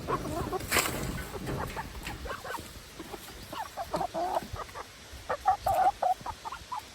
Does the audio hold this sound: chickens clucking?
yes